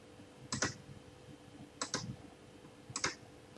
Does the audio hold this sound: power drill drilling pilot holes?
no